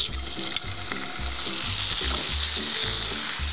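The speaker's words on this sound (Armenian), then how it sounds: "Թողնում ենք մի կողմը լավ տապակվի, հետո կշրջենք արդեն։" Meat sizzling and frying in sesame oil in a hot pan, a steady loud crackle with rhythmic low thumps and scraping from stirring, no voices.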